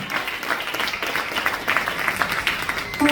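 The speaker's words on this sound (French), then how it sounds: "Est-ce que quelqu'un peut acclamer le Seigneur ce matin?" A church congregation claps and cheers to acclaim the Lord at a Sunday morning service, a steady, dense wash of applause that carries evenly through the moment with no speech over it.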